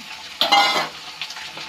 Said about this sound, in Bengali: সেদ্ধ করে রেখেছি হালকা সেদ্ধ আলুটা পেঁয়াজের সাথে দিয়ে দিলাম